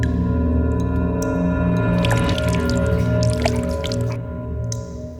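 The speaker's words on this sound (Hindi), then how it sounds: "पानी लीक हो रहा है," Water leaks and drips from a farmhouse terrace, soft irregular drips and squishy splashes set against a steady droning tonal hum.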